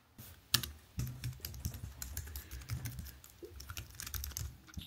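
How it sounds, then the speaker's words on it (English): Quick, uneven clicking of keys on a slim Huawei Ultrathin wireless keyboard, typed rapidly at close range with light, crisp taps and no talking. "There's a little sound of how it is when you're typing gibberish"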